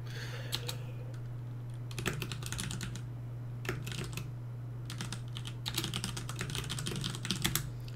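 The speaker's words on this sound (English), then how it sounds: "I'm just typing notes." Keys clatter on a computer keyboard as notes are typed, with scattered single taps and denser runs of clicks close to the mic, quiet above a constant low hum and no voices.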